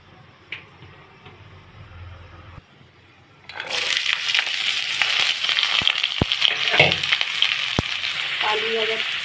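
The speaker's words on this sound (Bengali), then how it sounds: "আলু আর গাজরটা ভেজে নেব।" Potatoes and carrots hit hot oil in a pan, bursting into a loud, continuous sizzle after a few quiet seconds, with occasional scrapes and taps of a utensil.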